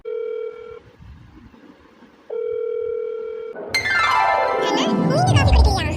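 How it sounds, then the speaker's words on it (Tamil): A landline telephone gives a steady dial tone broken by short gaps, then a single higher dialing tone, before a sweeping, crowded burst of electronic tones takes over near the end; no speech is heard over it. "இரு கார்த்திக் ஃபோன் போடுறேன்"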